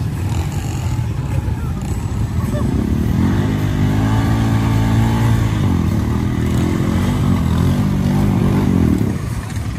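CF-Moto 300 two-wheel-drive off-road vehicle with no front axles, its engine droning loud and close under sustained throttle, pitch rising and falling as it revs during an off-road run.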